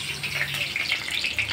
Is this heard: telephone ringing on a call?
no